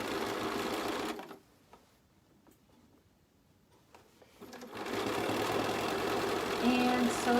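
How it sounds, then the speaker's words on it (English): Close by, a sewing machine stitches quilt binding in two steady runs, pausing briefly in between, with faint handling sounds during the gap. "And sew down to my other corner, stopping when I get a 1/4 inch to the end"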